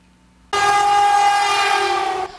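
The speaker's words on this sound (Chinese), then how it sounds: "树林开往台东的408次自强号列车行经事故地点，鸣笛追思" Tze-Chiang express train No. 408 of the Taiwan Railway sounds its horn passing the Taroko derailment site near the Qingshui tunnel: one loud, close, sustained blast lasting nearly two seconds, with no voices.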